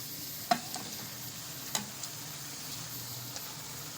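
Masala with tomatoes and potatoes frying in a pan, a soft steady sizzle with a few faint clicks of stirring, quiet and close.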